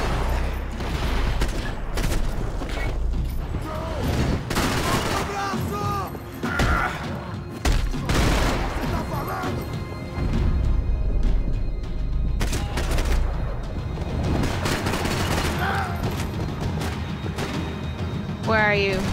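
Gunfire in Max Payne 3, dense bursts of shots and heavy thuds repeating through the whole stretch, loud and close, with a voice talking over parts of it.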